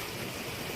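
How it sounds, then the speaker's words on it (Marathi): Heavy monsoon rain pours steadily over a housing society, a dense, even hiss with no break and no voices. "एवढा मोठा पाऊस पडतोय"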